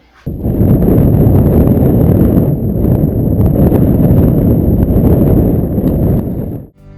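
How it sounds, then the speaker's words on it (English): Strong gusty wind roars and buffets the microphone in a loud, continuous low rumble, dropping off abruptly at the very end. "The wind was blowing a gale out there"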